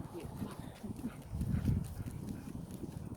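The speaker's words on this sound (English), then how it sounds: "Got some ponies. We've got some horses." Ponies and horses nearby give off irregular hoof clip-clops and shuffling, fairly soft and low, with a busier burst in the middle and faint background murmur.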